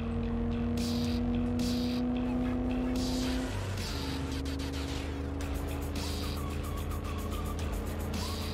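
Car driving in Cyberpunk 2077, a sustained engine hum that drops and climbs again as the car shifts, with bursts of road noise and tire hiss, heard behind faint chatter.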